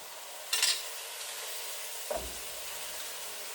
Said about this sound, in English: I can drop in the bok choy.